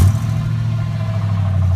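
Mercedes SL engine running, a steady low rumbling drone that holds even throughout, close and fairly loud with no voices over it.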